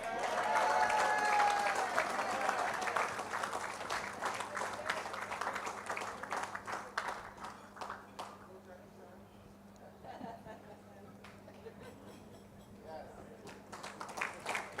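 Banquet guests at a 40th anniversary awards dinner applaud an award recipient, loud sustained clapping at first that gradually thins and fades, with voices talking over the tail before clapping swells again at the end.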